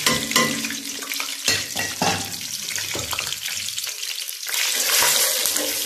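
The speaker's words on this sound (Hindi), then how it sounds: "अब मैं इसके अंदर ये जो मसाले थे जो मैंने आपको दिखाए, ये सारे मसाले मैं इसके अंदर डाल दूंगी।" Whole spices hitting hot oil in a pan, a loud close crackling sizzle with bursts and stirring, turning into a steadier rushing fry near the end.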